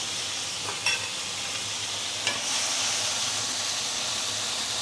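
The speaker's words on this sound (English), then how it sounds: "you want your wok to be really hot. As you can see from here, you can see the smoke coming up. Then put in the prawn," Marinated prawns fry in a very hot, smoking wok, giving a steady loud sizzle and hiss throughout with a couple of brief clatters of stirring.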